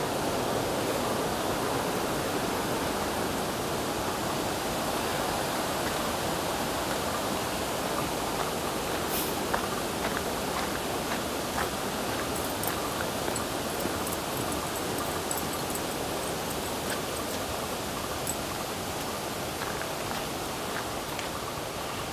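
A mountain creek flows downstream near a bridge, a constant, even rush of water that fills the whole stretch with no voices.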